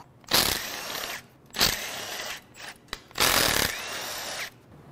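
A ratchet removing perimeter bolts from a Jaguar 3.0 supercharged engine, heard as three close bursts of rapid clicking and grinding, each about half a second to a second long, separated by brief pauses.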